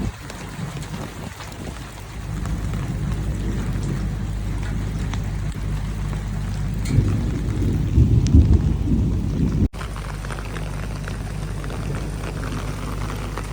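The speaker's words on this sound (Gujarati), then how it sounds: "એ પહેલો વરસાદ છે" Steady rain pours down while low thunder rumbles and rolls in the distance, with no voices.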